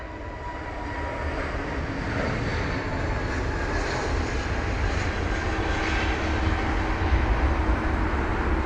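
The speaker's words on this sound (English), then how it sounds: "The Emirates A380 is now beginning its taxi to 27 right." An Emirates Airbus A380 taxiing at London Heathrow toward runway 27 right in wet weather, its jet engines giving a steady, loud, close rumbling whine that holds throughout with no talk.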